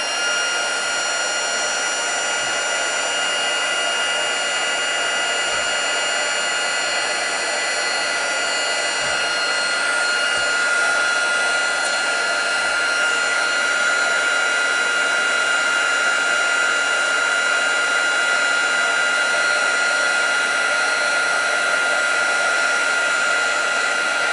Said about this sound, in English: I don't want it to be blown everywhere when I'm using my heat tool. So we're just going to heat that up.